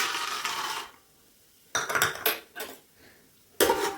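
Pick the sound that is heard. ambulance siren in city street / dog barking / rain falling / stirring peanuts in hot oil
stirring peanuts in hot oil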